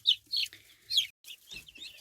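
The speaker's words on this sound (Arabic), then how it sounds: "ودول بقى الفراخ الهندي" Young Indian chickens, about two months old, cluck and peep in short bright bursts, several calls overlapping in a quick uneven rhythm close to the microphone.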